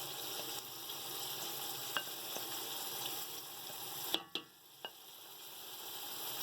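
Half a kilo of yogurt poured into a hot pot for matar pulao, a broad steady sizzle with a few sharp clinks of a utensil against the pot, fading quieter near the end.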